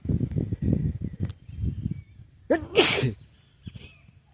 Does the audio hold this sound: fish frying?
no